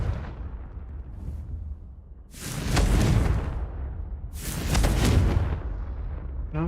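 Two heavy magical blasts from a Confringo fire spell in a Harry Potter video game, each a loud roaring burst with a whooshing rush, spaced about two seconds apart over a low rumbling background.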